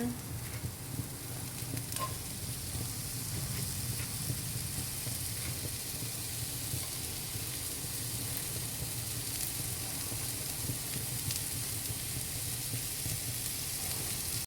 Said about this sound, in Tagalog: yung ating onions, so ipa-fry lang natin siya hanggang syempre maluto or mag-caramelize